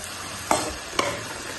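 Cabbage and onion for pav bhaji fry in a pan with a constant bright sizzle, broken by two quick stirring scrapes of a spoon about half a second apart, close up.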